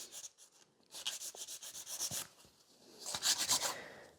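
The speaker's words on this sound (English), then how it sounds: "by filing always the sides, like the nails always looks much better" A nail file rasps along the sides of sculpted stiletto fiber gel competition nails in short, quiet, close strokes with small pauses between bursts.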